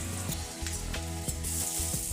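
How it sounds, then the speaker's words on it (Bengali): Garlic paste and black cumin seeds fry in hot oil in a pan as the tempering for a fish-roe curry, a near, steady sizzle broken by a few sharp stirring scrapes, with no talk. "এবারে রসুনটা একটু ভেজে নিতে হবে।"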